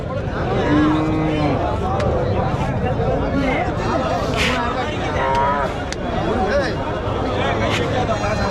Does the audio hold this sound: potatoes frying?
no